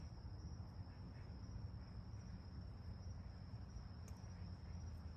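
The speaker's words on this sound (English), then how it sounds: "just sitting in the dark and listening to the crickets" Crickets chirp in the dark outdoors at night, a faint continuous high trill steady throughout, soft and distant over a low rumbling background with no talking.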